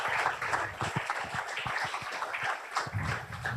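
Scattered, fairly quiet audience applause at a convention of Friulian immigrant associations, uneven individual claps in a loose rhythm rather than a full ovation.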